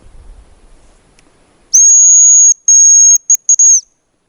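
A hazel grouse lure whistle imitating a male's call: a high, thin, sustained tone broken into a long note and then a few short trailing pips, loud and clear in a quiet snowy forest.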